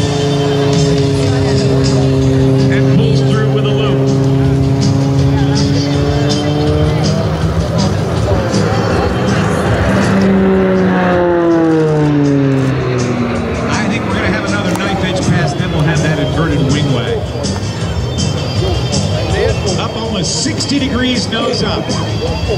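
A T-6C Texan II turboprop trainer flies an airshow demonstration, its engine drone rising and falling in pitch as it climbs and rolls, heard under a continuous announcer's commentary and crowd noise.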